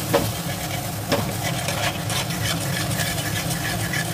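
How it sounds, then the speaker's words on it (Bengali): Chopped tomato sautés with spices in oil for an egg bhapa curry, giving a continuous low frying hiss with occasional stirring scrapes. The sound is close and steady, and no one speaks. "দিয়ে এই টমেটোটাকে ভালোভাবে মশলার সাথে কষে নিতে হবে তেলটা ছাড়া পর্যন্ত"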